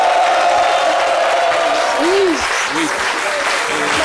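Loud, steady applause from a studio audience on a French-language radio or TV show, filling the whole moment while a single short word is spoken over it.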